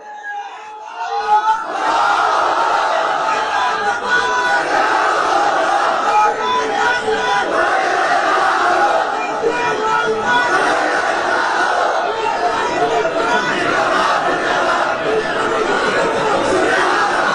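A large crowd at an outdoor Islamic religious sermon in Bangladesh loudly chants the takbir together, a dense, sustained roar of many voices that swells and holds steady for the whole stretch.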